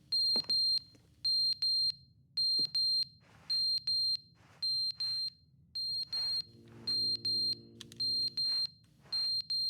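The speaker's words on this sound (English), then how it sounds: "Something's beeping." An electronic alarm in The Stanley Parable Ultra Deluxe, sounding as loud, shrill, evenly spaced beep pairs repeating steadily throughout, with faint low background hum and no talking.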